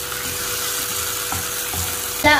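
Chopped onions sautéing in a frying pan make a steady, loud, close sizzle, with a brief clatter near the end and no talking.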